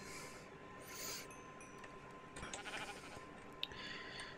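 Minecraft sheep bleat in the game, a few short nasal bleats at low volume over a steady hum, with no talking.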